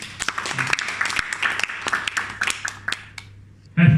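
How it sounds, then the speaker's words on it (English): Applause from an audience at a speech club meeting, fairly sparse individual claps of varying loudness that thin out and stop, followed by a brief bump of noise at the end. "Give her a round of applause."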